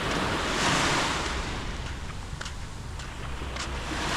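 Surf rolling onto Bang Po Beach on Koh Samui, a broad steady wash of breaking waves with wind buffeting the microphone, continuous and fairly loud, no voices.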